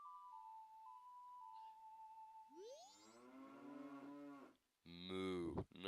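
A cow moos in the Zelda: Majora's Mask video game, one long, clear low moo that follows a short synthesized ocarina-like melody, with no talking over it.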